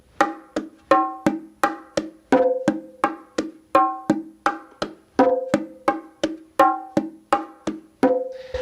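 Bongos played in a steady martillo pattern with true open tones, a continuous run of sharp close hand strikes where ringing pitched open tones stand out between drier slaps, no talk.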